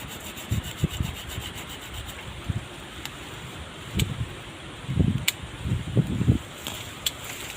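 Hand saw cutting through a coffee tree branch during pruning outdoors, soft uneven rasping strokes in short bursts, fairly faint and close with no talk.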